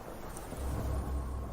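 Thunder rolls as a low, distant rumble that swells and stays steady, faint and alone.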